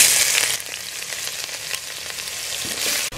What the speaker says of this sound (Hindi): इसमें काला जीरा डाल के उसको थोड़ा सा ऐसे भूनना और साथ ही लहसुन अदरक का पेस्ट।